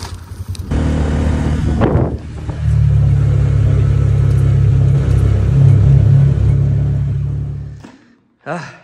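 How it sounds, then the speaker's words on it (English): A car passes on a windy road, a loud broadband rumble swelling and holding for several seconds before fading, with wind buffeting the microphone and a brief voice at the start. "Car."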